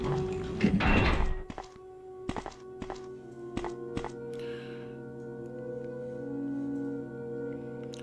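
Heavy double doors open in the Resident Evil video game: a rumbling clatter, then several sharp, echoing thunks in a row, followed by a low humming ambience with no speech.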